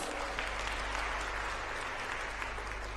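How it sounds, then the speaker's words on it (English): An audience at a closing plenary of a global entrepreneurship summit claps for the runners-up, a continuous, even wash of applause at moderate distance, with a low steady hum beneath. "Can we give that a round of applause?"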